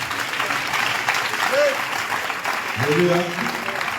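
Revival festival crowd applauding and cheering for Jesus, with loud sustained clapping and cries throughout and a voice calling out over the noise.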